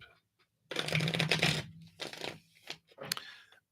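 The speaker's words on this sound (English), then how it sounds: "Too many cards. Let me just shuffle these up." Tarot cards are shuffled by hand in several bursts, a dense riffling flutter followed by shorter shuffles and taps, close and fairly quiet, with no talking.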